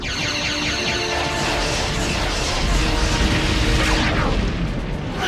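Starship weapons firing in a space battle against the Breen, a loud sustained roaring energy blast with rumbling booms that holds steady for several seconds before tapering slightly.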